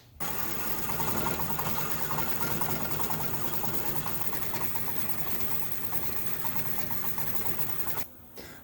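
A machine slowly cutting tool steel gives off a steady, dense mechanical whir with a rapid, even chatter for about eight seconds, then stops abruptly; no talking.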